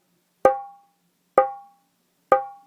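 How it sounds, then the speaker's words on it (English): Three evenly spaced fingertip strikes on a dholak drum produce a fine, ringing pitched tone, each sharp attack fading quickly, close and clear with no talking. "you want that fine sound as well"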